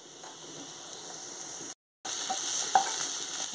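Onion paste frying in a pan after sliced onions, a steady close sizzle with a brief dropout in the middle and a few faint stirring clicks, no talking.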